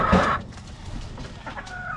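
Pet chickens cluck while eating, a few short nearby clucks with soft pecking and background noise.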